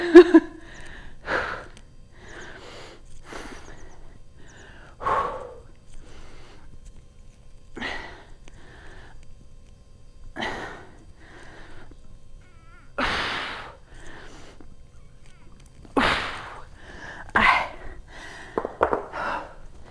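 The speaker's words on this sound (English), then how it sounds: "You can hear me breathing, I'm sure." A person breathes heavily during a workout, with sharp forceful exhales and gasps every couple of seconds, close to the microphone, loud against a quiet background.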